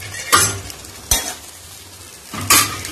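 White macaroni mixture is stirred in a pan: three distinct spoon scrapes and clinks against the metal at irregular intervals over a soft, steady sizzle, close and fairly quiet, with no talking.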